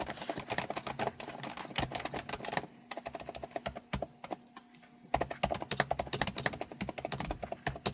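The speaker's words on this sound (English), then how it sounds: "this is basically the quietest, fully mechanical keyboard that I have ever used or heard in my life" Typing on a be quiet! Light & Dark Mount mechanical keyboard: a soft, quick stream of muted key clicks, close and fairly faint, with a brief pause before typing resumes.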